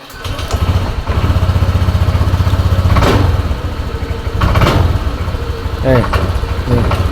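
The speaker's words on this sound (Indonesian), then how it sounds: "selanjutnya akan kita coba hidupkan mesinnya" The engine of a Honda Vario scooter with a sputtering, misfiring fault runs continuously up close, its rough idle sagging and surging as if about to stall, while someone talks over it.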